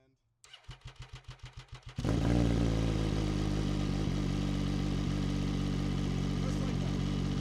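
A three-cylinder MV Agusta Brutale 800RC with an SC Project exhaust cold starts. About ten rhythmic starter cranks lead into the engine catching, and then a loud, steady, rumbling idle continues up close.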